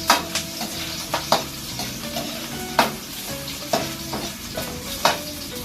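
Vegetables are stirred and scraped in a hot frying pan, with steady sizzling under a series of sharp, irregular utensil knocks against the pan, close and fairly loud.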